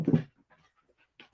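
Cece, a dog, pants in a quick loud burst up close, then goes quiet apart from faint soft whimpers and a brief final breathy sound.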